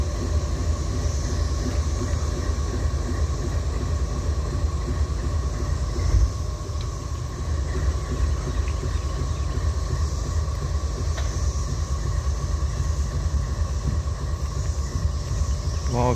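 Idling railroad locomotive rumbling steadily at close range, a constant low drone with faint clanks and no break in the engine sound.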